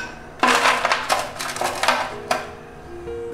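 Ice cubes dropped into a glass of lemon drink, a quick run of bright clinks and rattles as several cubes land, then settle with a few lighter knocks.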